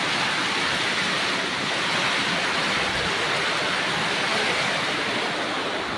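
Heavy rain from Typhoon Uwan pours down in a dense, steady hiss, loud and unbroken throughout with no voices.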